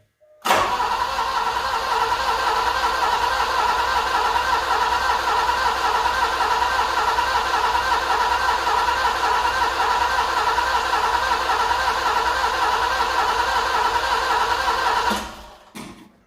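Alfa Romeo Milano (75) track car engine cranking into life, then running steadily at a loud, even idle for about fifteen seconds before cutting off abruptly.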